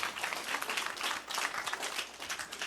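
Children clap together during a church lesson, a faint, fairly brief patter of small hands at a distance, loosely rhythmic and soft throughout.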